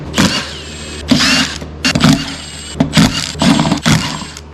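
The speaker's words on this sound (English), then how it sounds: "So I'm gonna go ahead and bolt these on" Bolts being fastened on a 1963 Chevy K10 4x4 drum brake job, heard as repeated bursts of mechanical clicking and ratcheting, about six short runs with brief pauses between them, close and fairly loud.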